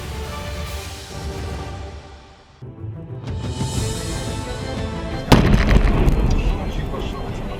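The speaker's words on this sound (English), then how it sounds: "Luckily, no one was too close when the gas tank blew up." A vehicle's gas tank blows up with a sharp, heavy burst after a rumbling, crackling fire, with the roar continuing loudly after the blast and voices mixed in.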